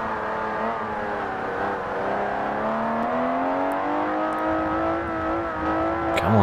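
A six-cylinder race car engine in Forza Motorsport 4 revs hard and close, with a steady, droning tone that climbs gradually in pitch while the car accelerates, heard alone without talk.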